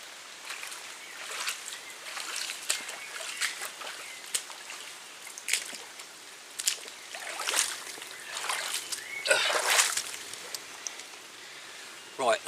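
Boots splash and slosh through stream water at Barton Spring, German jungle boots of the old US Vietnam type, with irregular wading splashes, some near and louder, others soft.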